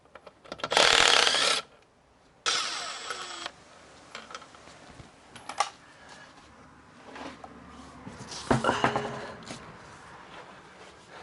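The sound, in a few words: removing a car wheel with tools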